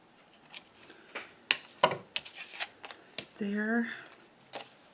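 A craft item's top is snipped with scissors in a few crisp, close cuts and rustles, with a short spoken phrase midway.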